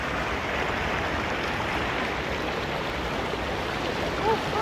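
A waterfall in an Indian mountain jungle pours steadily, a broad continuous rushing hiss with no breaks, heard close and even throughout.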